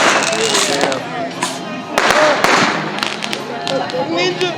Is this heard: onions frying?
no